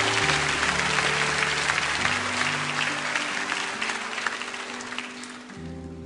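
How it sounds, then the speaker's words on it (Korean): Congregation applauding during an early-morning church prayer service, steady sustained clapping over low held organ or keyboard tones, fairly loud throughout. "우리 한 번 더 박수로 축복합니다."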